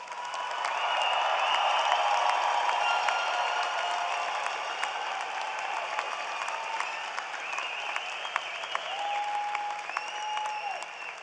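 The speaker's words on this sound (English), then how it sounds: "a round of applause for our graduates" A large crowd applauds graduates at a spring university commencement ceremony, steady dense clapping filling the hall and slowly thinning toward the end, with a few whistles and sharper claps standing out.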